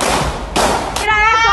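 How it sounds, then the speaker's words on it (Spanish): Gunshots ring out during street unrest in Cuba's crisis: two or three sharp, loud, noisy bangs in quick succession, followed by a person shouting close by. "¡Escuchen los disparos!"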